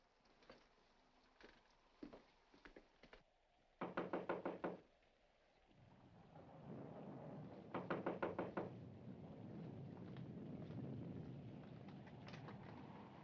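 Knocking on a front door in a 1946 thriller film, several rapid bursts of sharp raps separated by quiet gaps and a rising wind-like background, fairly close.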